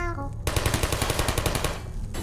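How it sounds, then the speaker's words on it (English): Rapid automatic gunfire from the Portal video game rattles in a steady, fast burst lasting over a second and a half, loud and close, following a brief vocal sound at the start. "Stop shooting me!"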